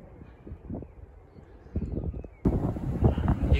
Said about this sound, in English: It's a lovely day, but it's windy, cold wind.